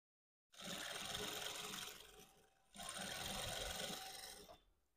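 A sewing machine stitching lace onto a saree, running in two steady whirring bursts of about two seconds each with a short pause between, close and continuous.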